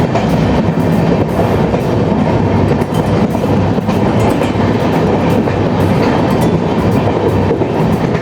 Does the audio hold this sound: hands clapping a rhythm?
no